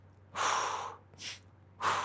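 Deep, audible breaths taken during a follow-along stretching routine for mobility and middle splits: a long inhale, a shorter breath, then another strong one, close and clear over a quiet low hum with no talking.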